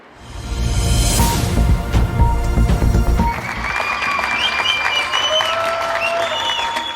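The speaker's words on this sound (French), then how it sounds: "Chaque soir à 20h, les applaudissements rugissaient des façades d'immeubles pour soutenir les soignants." Evening lockdown applause for health workers rises from apartment building facades in France, with steady outdoor clapping that shifts partway through to clapping mixed with high whistles and tonal calls.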